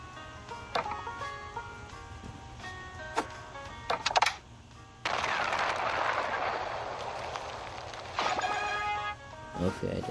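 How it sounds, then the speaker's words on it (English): A bomb blows up in a mobile video game, a sustained broadband blast rumbling for several seconds after a few sharp clicks and tones, with game music around it. "blow up the bomb, I guess."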